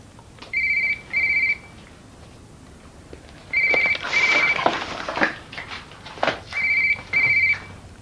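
A telephone rings in a domestic room, three separate pairs of electronic trills spaced a few seconds apart, close and clear, with some brief rustling and clatter between the rings.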